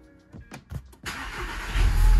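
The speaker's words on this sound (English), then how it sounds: "once I get the car started up" A car with a TrueFlex flex-fuel tune starts up: a few short chugging cranks, then the engine catches and settles into a loud, steady running roar close by, with no talking.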